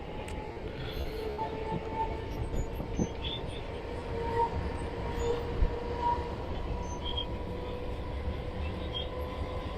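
A steady rumble of a moving suburban train near Villivakkam station, Chennai, with rhythmic clatter of wheels on rails and faint metallic squeals, continuous and close.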